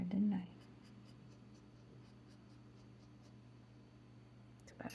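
A fountain pen scratches across paper in a quiet room, soft steady writing strokes close up and faint throughout, pressed down hard at the start.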